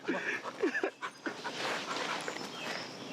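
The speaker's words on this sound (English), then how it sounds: "someone's dog just ran into the camera" A dog that has run up close to the camera whimpers and pants in short, high whines, followed by steady breathy panting, with little speech.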